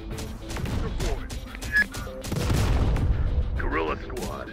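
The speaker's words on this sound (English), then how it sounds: "Señor Gabrielo, the gunfire is getting closer" Gunfire in the Terminator: Dark Fate - Defiance video game during a battle, rapid bursts and heavier booms crackling over radio-style voices and a rumbling battlefield bed, loud and close.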